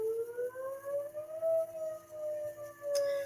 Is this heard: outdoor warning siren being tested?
yes